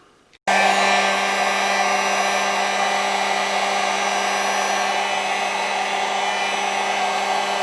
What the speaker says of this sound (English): Heat gun's on low heat right now.